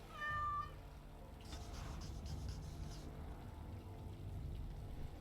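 A cat meows once, short and clear, in Dragon Age: Origins Awakening, followed by quiet rustling and faint background noise with no talking.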